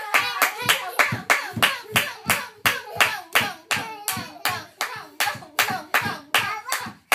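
Close, sharp hand claps at home with a young child nearby, struck in a steady, even rhythm of roughly two claps per second and continuing for about seven seconds with no talking over them.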